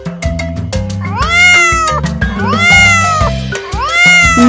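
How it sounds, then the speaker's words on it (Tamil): A cat meows loudly and close, giving three drawn-out, wavering cries one after another over a low steady hum. "இந்த சத்தம் பூனையோடது"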